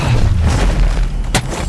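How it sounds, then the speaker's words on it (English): Thermite grenade detonating in the mobile shooter Apex Legends Mobile, a loud low boom with rumbling body followed by a sharp crack near the end, close and punchy. "Throwing thermite grenade."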